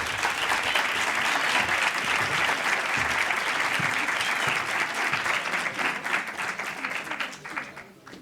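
An audience at a talk applauds a pediatric gastroenterology specialist, a full steady round of clapping from a sizeable crowd that thins slightly toward the end, heard at moderate distance.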